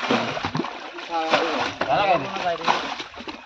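Water being bailed and splashed out of a pool in a jungle stream in Konkan to trap fish, with repeated close sloshing splashes mixed with people talking.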